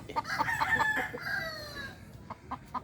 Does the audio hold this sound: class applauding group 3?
no